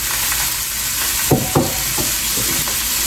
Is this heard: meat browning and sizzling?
yes